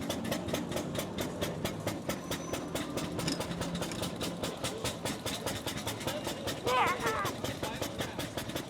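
A 140-year-old car runs flat out at full throttle in a drag race, its engine chugging in a steady, rapid pulsing rhythm that stays loud and close throughout, with a brief rise in intensity near the end.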